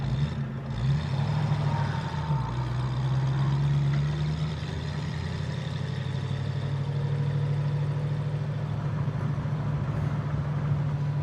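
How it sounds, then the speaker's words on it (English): A Ford Mustang Fastback with a 302 V8 and a mild, non-aggressive exhaust runs with a steady low rumble throughout, a brief rev rising and settling early before the drone holds even. "I'm hoping we can hear the exhaust when I yump on it"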